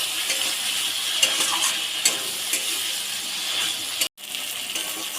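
Fried potatoes being stir-fried with spices in a pan, producing a steady hissing sizzle with light stirring scrapes, close by, broken once by a brief dropout.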